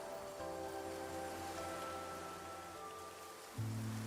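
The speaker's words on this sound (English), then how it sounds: "it looks like it's going to rain" Steady rain in the video game Infinity Nikki patters in a continuous soft hiss while calm background music plays, with no speech.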